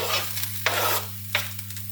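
Onions and a bay leaf cooking in olive oil in a pan alongside eggplant, a soft continuous sizzle with two sharper stirring scrapes, over a steady low electrical hum.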